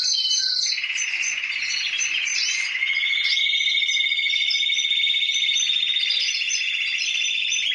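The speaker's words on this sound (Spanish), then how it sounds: "Qué bien aprenden la campana estos pájaros" Caged songbirds sing a continuous, high, ringing bell-like song, steady and close, with bright trills and warbles overlapping throughout.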